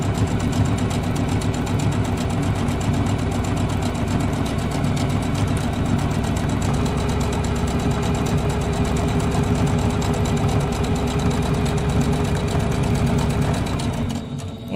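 Sewing machine stitching fabric for a pillow wall hanging, running in a steady, fast, close mechanical whir that carries on almost unbroken before stopping at the end.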